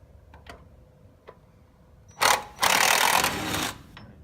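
A bolt is worked out of a car strut at the axle with a power tool: a few faint clicks, then two loud bursts of rapid impact-gun rattling nearby, about one and a half seconds in all.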